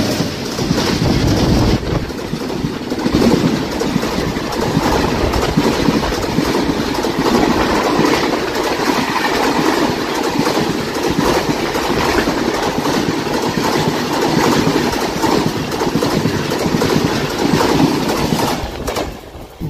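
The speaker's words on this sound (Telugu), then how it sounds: "దానికి ఓవర్టేక్ అయిపోయిన తర్వాత మన ట్రైన్ వదిలేడు" A passenger train on the Rajahmundry to Araku route rolls steadily along the tracks. A loud, continuous rumble comes from inside the carriage, with faint rhythmic clatter and wind buffeting, and no talking.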